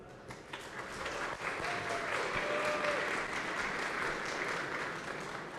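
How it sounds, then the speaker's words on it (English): An audience at a programming contest's invited talk gives steady, even applause for a speaker from a Tel Aviv research center, a soft, continuous wash of many hands clapping with no talking over it. "Round of applause for Shahar."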